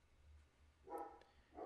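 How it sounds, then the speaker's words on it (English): A dog barks twice in the background, two short mid-pitched bursts about half a second apart, fairly faint against a low steady hum with no talking. "apologize for my dog barking in the background."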